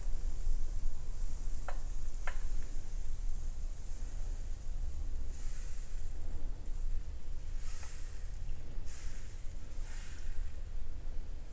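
Crêpe batter spreads and cooks in a hot pan with a steady, loud sizzle throughout, broken by a few faint scraping strokes as the batter is spread.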